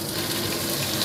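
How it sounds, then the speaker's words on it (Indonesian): Fish frying in a pan in a home kitchen, a steady dense sizzle holding level and close throughout with no voices. "Saya goreng dulu ikan punya saya."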